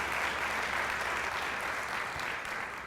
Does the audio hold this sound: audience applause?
yes